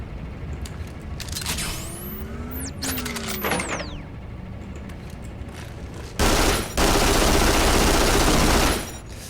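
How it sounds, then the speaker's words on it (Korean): Gunfire in Duke Nukem Forever aimed at a drum, heard as scattered sharp shots and whooshing sweeps early, then a loud, dense burst of sustained firing near the end; no talk. "안에 있는 드럼을 쏴? 이렇게 한번 쏴보자"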